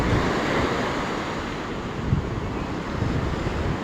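Sea waves roll and wash continuously onto a beach in Goa, a steady, loud roar of surf mixed with wind buffeting the microphone, with no voices.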